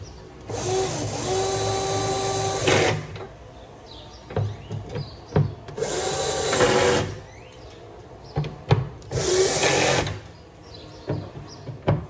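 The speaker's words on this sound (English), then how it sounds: "I've got them all snugged in with the drill" A power drill driving screws on a 2021 Toyota Tacoma whirs in three sustained bursts separated by pauses, with small clicks and handling noises in between, close up.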